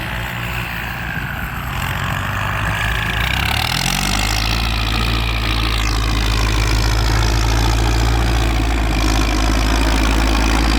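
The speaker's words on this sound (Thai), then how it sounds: "เดี๋ยวฟังเสียงเอ็มห้าพันนั่นลั่นงอีกสักดอกนะครับ" Kubota M5000 tractor engine running, a loud, close, deep diesel rumble that revs up early and then settles into a steady heavy drone.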